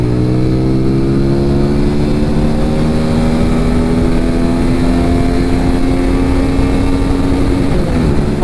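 A TVS Apache RTR 200 4V Race Edition motorcycle engine drones steadily and loudly while riding, with its pitch holding even and then dipping near the end as the throttle changes, and no voices.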